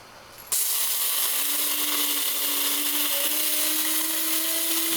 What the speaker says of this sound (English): we grind those beans real nice in there